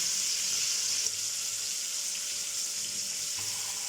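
Fish frying in a pan during village cooking, a steady bright hiss of sizzling oil holding level throughout, close and fairly quiet, with no voices.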